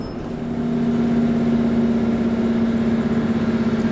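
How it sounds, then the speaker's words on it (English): A diesel passenger train on the Looe Valley Line comes to a halt near Coombe, its engine rumbling low and steady with a pulsing throb as it settles on the track. "The train then stops for the guard to adjust the points."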